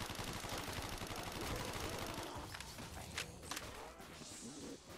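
Rapid gunfire from shooting zombies in an old-school custom zombie map in a video game, dense bursts at first and then thinning to scattered shots over a steady game background.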